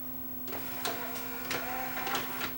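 A Yamaha 5-disc CD changer tray opening under its motor mechanism, with a steady electrical hum and a few short whirring, clicking motor bursts spread over a couple of seconds.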